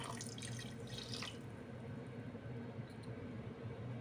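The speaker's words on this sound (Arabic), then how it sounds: "نضيف عليها 150 جرام ماء الورد" Rose water, 150 grams, is poured onto 600 grams of sugar in a pan while making Adeni-style Omani bakhoor incense, giving a close, steady trickling pour with a brighter splashy start that settles into a continuous low liquid hiss, with no speech.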